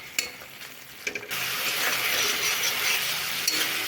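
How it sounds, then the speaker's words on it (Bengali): Turmeric, coriander, cumin and chilli powders are stir-fried in a pan. After a few scrapes, a steady close sizzle sets in and carries on without talk. "মশলাগুলো সব কষে নেব।"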